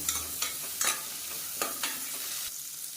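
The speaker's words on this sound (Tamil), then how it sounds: "இதை வந்து வதக்கி விட்டுக்கலாம்" Small onions and green chillies sauté in a pan for peerkangai kadayal, with a steady close sizzle broken by several scraping stirs of a spatula.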